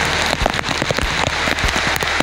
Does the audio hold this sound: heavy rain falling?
yes